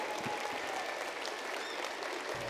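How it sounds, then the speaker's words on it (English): Steady applause from an audience at a school fine arts showcase, broadband clapping held evenly throughout at a moderate distance. "Let's give them another round of applause"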